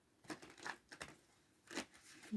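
Tarot cards shuffled by hand during a reading, giving a few soft, separate riffling bursts that are quiet and close, with no talking.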